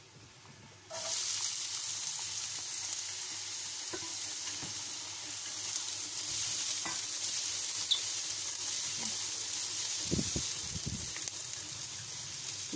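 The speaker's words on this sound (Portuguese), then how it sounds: "E deixar aqui a cebola refogar um pouquinho." Onion sautés in olive oil in a frying pan, a steady moderate sizzle that starts suddenly after a moment of quiet, with a few scattered knocks and stirring sounds.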